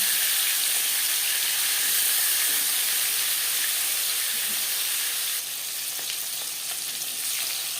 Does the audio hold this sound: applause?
no